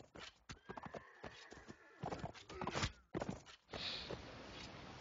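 Horse hooves clip-clop in an irregular gallop rhythm during a competitive tournament video game match, with a whinny and scattered thuds of combat, fairly close and prominent.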